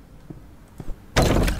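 In the horror game The Baby in Yellow, a door opens: a couple of soft knocks and thuds, then a sudden loud, noisy rush that carries on to the end, with no speech.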